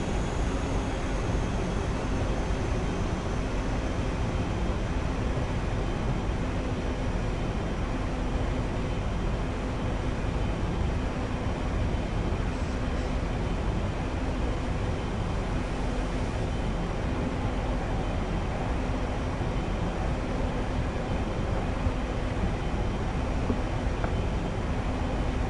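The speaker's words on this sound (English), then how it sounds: "I'm trying to slow the train down a bit more so we can go at the speed." Steady, continuous rumble and hiss of a train slowing on the West Coast Main Line in Train Simulator, an even drone with a faint tonal hum held throughout and no talk.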